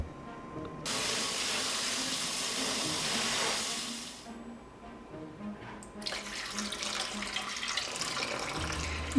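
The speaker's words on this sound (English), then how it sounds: "When it is done, wash them with running water." Running tap water rinsing abalone, a steady close hiss of flowing water that stops briefly, then resumes with splashing and handling sounds.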